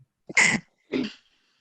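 Someone nearby sneezes, a sharp burst followed by a second softer one, loud and clear against silence.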